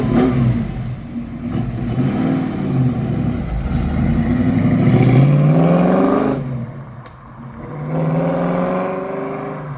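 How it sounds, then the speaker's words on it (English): An Australian muscle car engine revs hard and builds to a loud, rising roar, dips briefly, then climbs again; close by with no talking. "We'll just have a listen to how good this car sounds."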